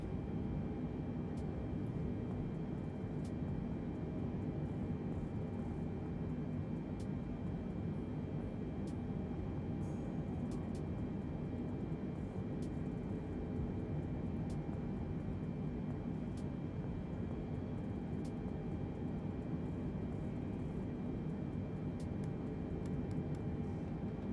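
Boeing 747 jet engines in a flight simulator game, a steady broadband roar with a faint tonal whine that holds unchanged and loud throughout, with no voices.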